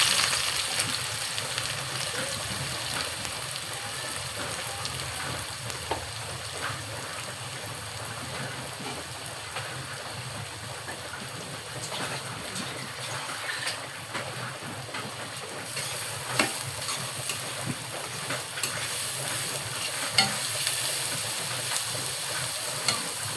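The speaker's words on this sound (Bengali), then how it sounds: "পেঁয়াজটা ভাজা হোক" Onions fry in hot oil for chicken and potato curry, a soft, continuous crackling sizzle, fairly quiet and steady, with occasional sharper pops.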